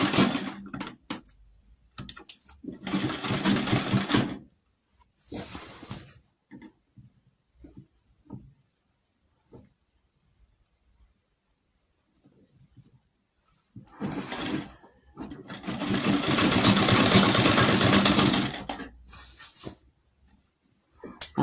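A sewing machine stitching a pleat on a contoured blouse, running in two loud bursts, one short near the start and a longer one toward the end, separated by a stretch of quiet handling and small clicks.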